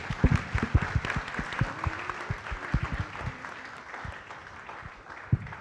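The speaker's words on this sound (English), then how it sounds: "A big round of applause to all our incredible student leaders of" Audience applause at a school student leadership ceremony, a moderate spread of individual claps heard fairly close, steady and unbroken for several seconds.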